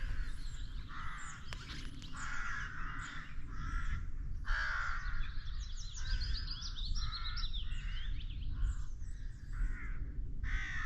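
Many crows caw repeatedly on a countryside walk, harsh calls overlapping in steady rhythm at middle distance over a constant outdoor hum, with some smaller birds chirping faintly.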